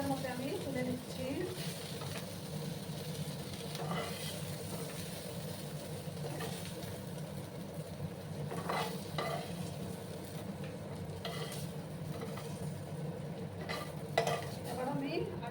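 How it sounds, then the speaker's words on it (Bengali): Okra sizzling in oil in a pan while being stirred and lifted out with a utensil, a steady soft frying hiss broken by scraping clinks, with a voice speaking over it. "এবার আমি ভেন্ডিগুলোকে তুলে নেব।"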